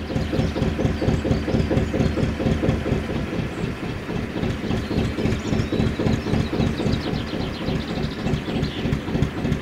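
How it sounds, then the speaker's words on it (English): A narrowboat engine idles at tick over after a warm-up run, giving a loud, close, steady rhythmic chugging with no talk. "That's her tick over basically."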